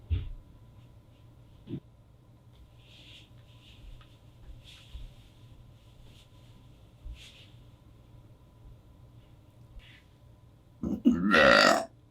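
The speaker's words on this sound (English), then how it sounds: "It was a burp." After a long, quiet stretch with a few faint ticks and rustles, a loud, close burp erupts near the end and lasts under a second.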